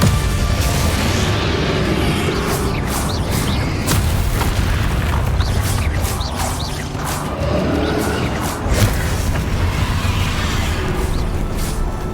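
Bombarda spell explosions in Hogwarts Legacy combat, loud continuous booming blasts with crashing debris and magical bursts layered over a dense, unbroken wall of battle noise.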